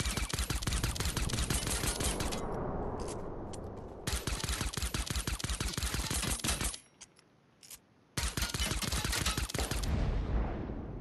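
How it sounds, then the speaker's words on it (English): Silenced pistol fire in the video game Fortnite during a squad match: dense bursts of rapid, close, loud shots come in several stretches, separated by brief pauses. "I got a silence pistol. I'm gonna try and shoot it down."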